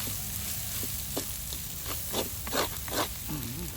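Fermented soybeans (thua nao) and cicadas are stir-fried in a pan, a continuous hiss with soft, rhythmic scrapes of a spatula.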